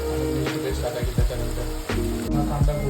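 Chopped onion sizzles steadily in a hot pan with salt, a constant crackling hiss broken by a few scraping stirs, while a person talks over it.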